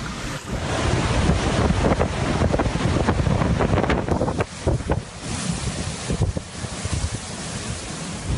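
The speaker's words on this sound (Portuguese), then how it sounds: "O vento, a noite toda foi muito vento, muito forte." Strong, roaring Hurricane Irma wind gusts in Florida buffet the microphone nonstop, with a broad rushing roar and heavy low rumble that surges and eases throughout.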